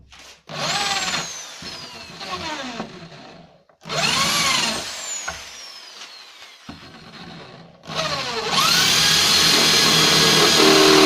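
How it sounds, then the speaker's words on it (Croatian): An electric drill with a freshly sharpened metal bit whines up in three separate bursts, each pitch sliding as it bites into metal, with short pauses between; the last burst runs loud and sustained. "Sada probam, hoću to bušiti."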